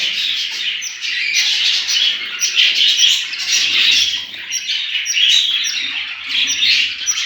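Budgerigars bred at home, a flock chirping and warbling continuously in a busy, high chatter, close and fairly loud, with no talk over it.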